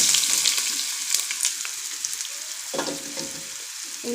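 Marinated apple pieces fry in an uncovered pan of oil, giving a continuous close crackling sizzle with occasional stirring knocks, loudest at the start and easing slightly toward the end.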